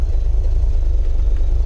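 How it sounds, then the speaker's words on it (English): A fast car in a video game rumbles with a deep, steady engine drone, close and loud, its low idle-like throb continuing without change. "This is a really fast car."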